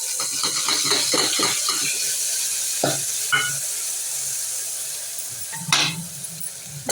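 A ginger, garlic and coriander paste fries in hot oil with a close, bright sizzle, while a spoon stirs it in quick scraping strokes and taps the pan a few times, with no talk.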